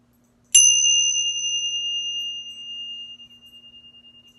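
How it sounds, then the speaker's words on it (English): A single meditation bell is struck once, ringing out clear and bright with a sharp onset, then sustaining a long, slowly fading resonant tone with gentle pulsing in a quiet setting. "see again if you can follow the sound of the bell"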